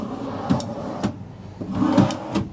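Full-extension drawers in a 2026 Newmar Mountain Aire 3825 motorhome sliding open and shut, giving a few short, close wooden thumps and rolling slides spaced about half a second apart.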